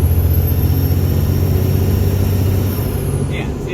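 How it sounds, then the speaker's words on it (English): 12-valve Cummins diesel in a dually pickup truck under throttle: a loud, close, steady low engine drone with a rumbling rhythm that eases slightly near the end, with a high whine above it. "Like if I were to hit the throttle right now."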